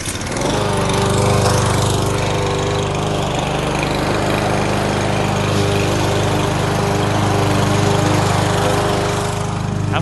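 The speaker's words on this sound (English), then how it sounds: "The lawnmower is going on" Loud lawn mower engine running steadily up close, a constant buzzing drone that fills the whole stretch without pause.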